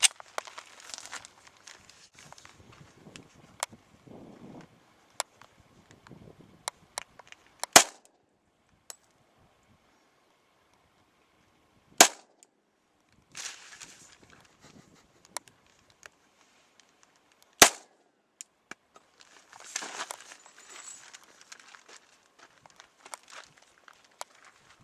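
A small Glock pistol converted from .40 to 10mm fires three sharp shots several seconds apart. Quieter handling, rustling and footstep sounds fill the gaps between them.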